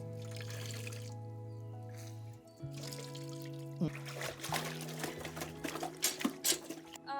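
A cloth soaked in starch is wrung out, and liquid trickles and drips in short bursts over a steady mechanical hum, with a few soft clanks. No one talks.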